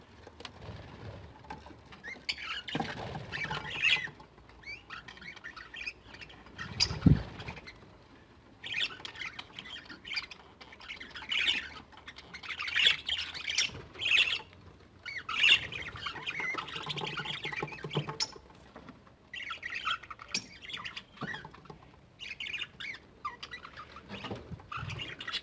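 Cockatiels eating a creamed egg meal give off scattered squawks and chirps over soft pecking and pattering, quiet and intermittent with irregular bursts over about twenty-five seconds, with no talk.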